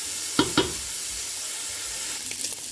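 Pancetta fries in a pan, rendering its fat with a steady close sizzle and a couple of sharp pops early on, with no talking.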